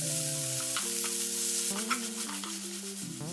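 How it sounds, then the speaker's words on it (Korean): Kimchi and bacon stir-fried in an oiled pan over medium-low heat, a soft continuous sizzle with stirring scrapes running under steady sustained tonal music. "김치 넣고 볶아서"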